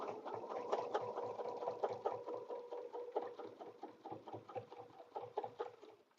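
Sewing machine stitching a quilted table runner, a steady fast mechanical chatter of needle strokes running continuously at moderate level, close and without talk.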